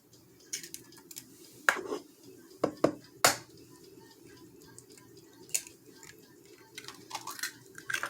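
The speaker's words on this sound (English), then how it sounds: "We're going to crack our eggs because this is going to be our batter" Eggs cracked for a fried conch batter, a few sharp close clicks and taps of shell against a bowl rim scattered through a quiet kitchen, separated by pauses.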